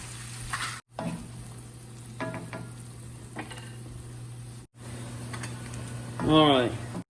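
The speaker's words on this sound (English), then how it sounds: "We need to throw our onions and celery in here with 1 stick of butter." Onions and celery sizzle in a stick of melted butter in a pan, a steady close frying hiss with occasional stirring scrapes. A brief voice rises near the end.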